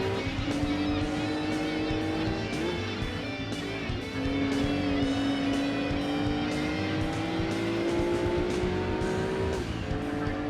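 Race cars in the Gran Turismo 2 video game during a touring wagon or 80s sports car cup, with a loud continuous engine whine rising and falling through gear shifts, plus occasional tire squeal.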